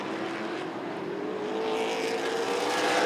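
Late model race cars roar around Rockford Speedway, a steady loud engine drone with a rising pitch that swells slightly toward the end, several cars battling close together with no talk.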